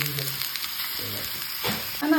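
Sliced brinjal (eggplant) fries in hot oil with a steady, close sizzle, crackling a little louder near the end.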